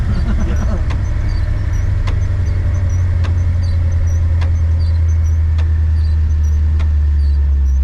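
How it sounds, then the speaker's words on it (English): An Oldsmobile engine idles loudly, set too high by the carburetor, steadily up close, a constant low rumble with faint ticking at regular intervals. "I got the idle up too high because I was just guessing when I set the carburetor"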